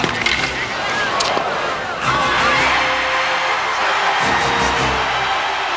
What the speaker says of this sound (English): with the crowd in a frenzy